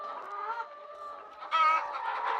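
Farm chickens clucking at morning feeding time in a forest setting, several close birds with overlapping clucks and a louder squawking burst partway through, no talk.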